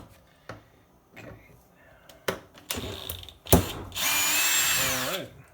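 Power drill set to low gear spinning out a short bolt from a Honda Insight G3 battery module, preceded by scattered clicks and tool handling, then a loud steady whir for about a second ending in a ratcheting wind-down.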